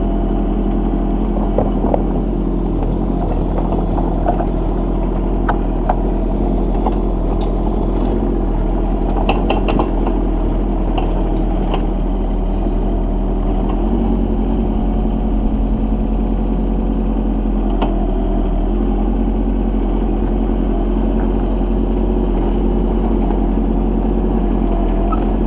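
A mini excavator moving sand and gravel runs with a steady, loud engine drone for the whole stretch, with faint scraping and clanking from the work scattered over it and no voices.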